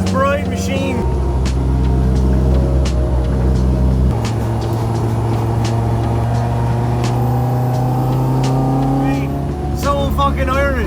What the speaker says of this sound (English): Never thought I'd be driving the RYO86 following Yuasa's bride machine